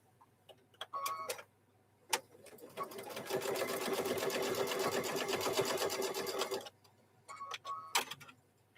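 A sewing machine stitches across fabric for a microwave bowl koozie in one sustained rapid run of several seconds, framed by short start-and-stop bursts of stitching before and after.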